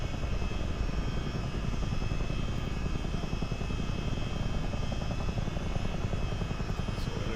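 A CH-47D Chinook helicopter in a flight simulator game drones steadily with a dense rotor and engine roar, constant and close, with no change in level over several seconds.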